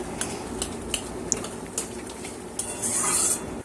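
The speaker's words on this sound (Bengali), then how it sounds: "এবার নুনটা দিয়ে আমি একটু ভালো করে নাড়িয়ে চাড়িয়ে নিচ্ছি" A spoon stirs papaya chutney in a pan after salt goes in, scraping and clinking in irregular strokes over a soft background simmer, with a louder hiss near the end.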